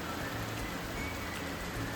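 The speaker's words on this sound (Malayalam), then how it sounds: "കണ്ടില്ലേ, എന്ത് മഴ." Heavy rain pours down outside with wind, a steady, even hiss of drops on surfaces continuing without pause, moderately loud and with no voices.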